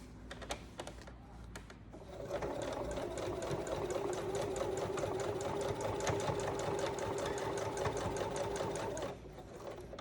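Sewing machine stitching a seam in trousers, a fast, even mechanical clatter that starts after a couple of seconds of faint handling and runs steadily for about seven seconds, moderately close.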